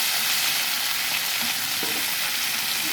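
Onion and green chilli paste fries in a pan for a stuffed eggplant curry, giving a loud, continuous close sizzle with faint stirring, no voices.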